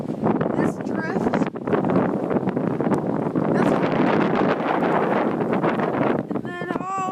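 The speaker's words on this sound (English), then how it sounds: "And then it's really windy." Strong wind during a giant snowstorm batters the microphone in loud, continuous rumbling gusts outdoors near a snow-drifted driveway, with a voice briefly audible toward the end.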